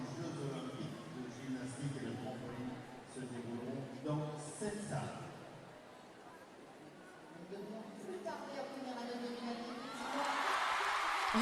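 A gymnastics arena crowd at the 2023 Paris World Challenge Cup, with murmuring and shouts under steady commentary, swelling into a loud broad cheer in the final seconds.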